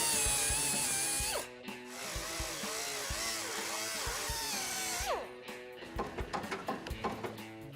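A power tool whines loudly and steadily as it cuts into the metal body of a 1970s street machine van behind the turn indicator. It briefly lets off, then the whine resumes and breaks into a run of short bursts.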